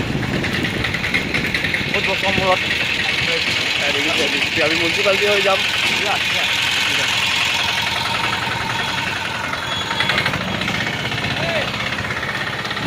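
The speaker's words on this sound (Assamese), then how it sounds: "বহুত দিনৰ মূৰত আজি বাইক চলাইছোঁ মই" A motorcycle engine runs steadily while being ridden, a continuous close drone with wind rumble throughout, as someone talks over it almost the whole time.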